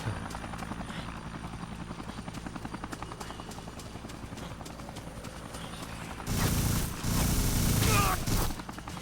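A helicopter in the video game Dead Rising thumps with a steady, rapid rotor chop throughout, swelling louder and fuller toward the end.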